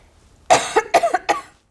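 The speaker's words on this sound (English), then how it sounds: "I'm afraid I'm going to cough now." Three quick, harsh coughs in a row, close and fairly loud, with brief pauses between them.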